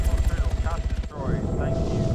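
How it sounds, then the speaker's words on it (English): Helicopter rotors spin in the Arma video game as a rhythmic whump-whump that turns into a steadier drone partway through, with someone talking over it. "the rotors on the heli goes round"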